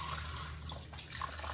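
Water running from a tap into a sink for bathing a Yorkie puppy, a steady close splashing rush with faint trickles and a low background hum throughout.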